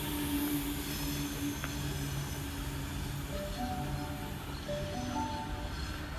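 A Sydney Trains service passing through Erskineville station at weekday peak hour, a sustained rumble with tonal motor whines and a brief metallic clank, heard steadily from the platform.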